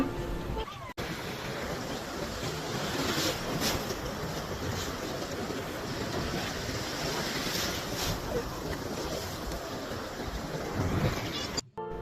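Steady roar of ocean surf at a crowded sea beach where a river meets the sea, broadband and continuous with wind buffeting the microphone throughout.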